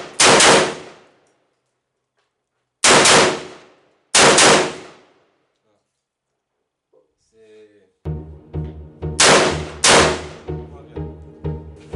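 Daniel Defense M4V7 AR-15 rifle firing at targets 25 meters away: loud, sharp separate reports, then a quick string of rapid shots that overlap with ringing echoes.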